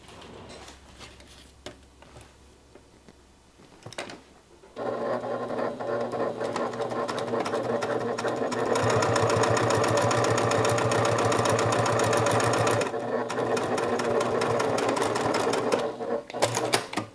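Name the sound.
sewing machine stitching a seam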